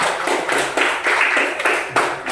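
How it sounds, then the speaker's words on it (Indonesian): A short burst of lively applause from a small group in a classroom training session, close and steady, with no talking. "kasih tepuk tangan untuk kelompok"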